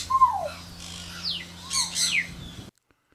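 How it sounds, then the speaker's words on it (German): Parrots kept in a park, with a few squawks and whistled chirps and rising and falling calls that sound moderately near over a low steady hum, and then silence. "Auch werden hier Papageien gehalten."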